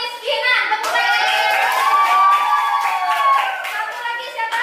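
A classroom of children claps along while a teacher and children talk over a steady patter of hands that is fairly close and continuous.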